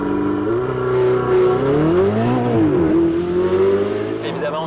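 Turbocharged V8 of a Ferrari 488 GTB accelerating hard, its loud engine tone climbing, dipping briefly, then rising again in a steady, continuous pull close to the listener.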